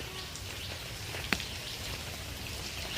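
Light rain patters steadily over a garden where fruit plants have just been set, a soft even hiss with one sharper drop or tap standing out.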